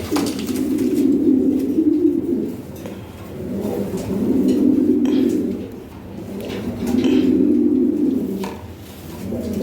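Pigeons at a pigeon seller's coo in three long, swelling phrases, close and fairly loud, with faint voices and clatter in the background.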